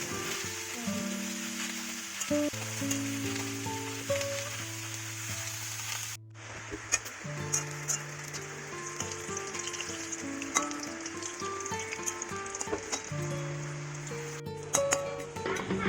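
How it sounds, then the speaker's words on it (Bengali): Brahmi leaf fritters fry in hot oil with a continuous close sizzle and crackle, a brief break as a fritter is turned, then the bubbling resumes, with a steady background tone running underneath and no talking. "বড়াটা একটু উল্টে দিচ্ছি"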